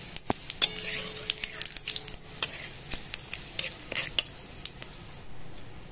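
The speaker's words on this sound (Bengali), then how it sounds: "1 চামচ গোটা জিরে দিয়ে দিলাম" Whole cumin seeds fry in oil with whole garam masala for a Bengali chana dal tempering, giving a faint sizzle broken by scattered sharp pops and clinks of a spoon against the pan, close and quiet, with no talking.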